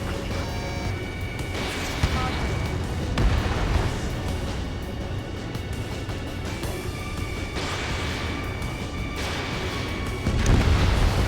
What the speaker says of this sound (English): Target has been destroyed.